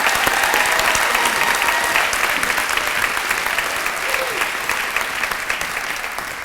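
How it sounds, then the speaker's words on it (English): An audience at the 2017 Pride of Peoria leadership awards gives loud, sustained applause for the recipients, dense clapping that tapers slightly toward the end. "Let's give these 12 deserving Pride of Peoria recipients a huge round of applause"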